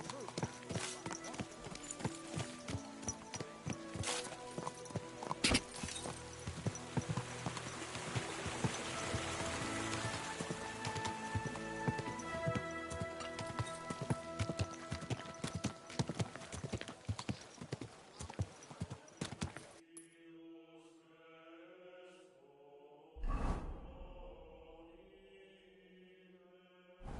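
Horse hooves clip-clop in the video game Kingdom Come: Deliverance II, a steady close run of hoofbeats over rain that cuts off abruptly, followed by a brief hollow thump and near quiet.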